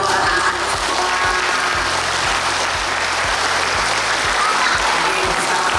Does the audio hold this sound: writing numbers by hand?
no